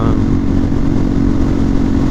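Steady wind roar inside an ICON Airframe Pro motorcycle helmet while riding, a loud, dense rush layered over the low drone of the engine, unbroken throughout.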